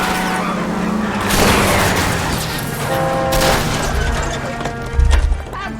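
Pistol shots aimed at a fleeing car's tires during a chase in L.A. Noire, heard over roaring engine and road noise, with sharp bangs and crashing impacts, loud and close, with game voices in the background.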